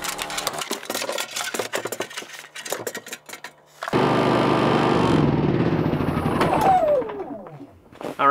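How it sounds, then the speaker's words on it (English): A generator runs in freezing off-grid conditions to warm batteries. Scattered clattering knocks come first, then a loud, steady mechanical roar that lasts a few seconds and winds down with a falling pitch. No one speaks. "the generator's been running here for maybe 15 minutes or so"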